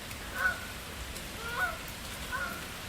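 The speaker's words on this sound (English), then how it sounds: "Geese." Geese honk faintly in the distance, three separate calls spaced about a second apart over a quiet background.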